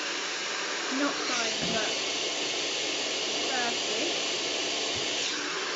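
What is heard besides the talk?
hair dryer blowing during blow-dry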